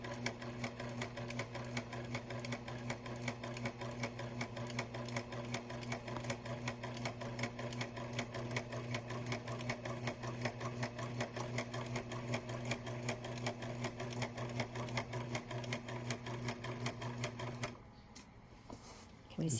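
A Huskylock 1003LCD serger stitches a tri-needle coverstitch with a steady, fast mechanical whirr and clatter that runs evenly for most of the clip, then stops abruptly near the end.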